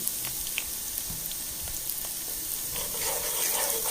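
Semolina frying in hot oil for sooji halwa, a soft, steady sizzle close by with faint stirring scrapes and light crackles, quiet and continuous with no talking.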